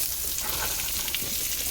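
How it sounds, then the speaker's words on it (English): Cabbage hitting a hot pan, a loud dense hiss and crackle filling the whole moment, close and continuous. "This same pan, I'm going to start adding the cabbage."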